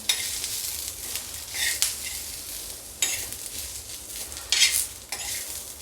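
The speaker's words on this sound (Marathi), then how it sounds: "एक चमचा तेळ टाकणार सगळ्यांना चांगल्याने आपण परतवून घेऊया" Ingredients sautéed in oil in a pan for a Vidarbha patodi rassa, with a spoon scraping and stirring in irregular bursts over a soft continuous sizzle, close by and without talk.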